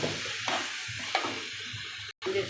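Chopped onions and tomatoes sauté in a pan for capsicum rice, a soft steady sizzle with a few scraping stirs and a brief dropout near the end.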